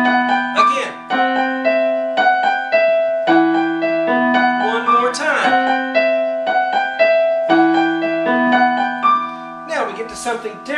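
Solo piano plays a song in a steady, easy lesson arrangement, with sustained chords in the left hand beneath a repeating melody, close and clear with no voice over it.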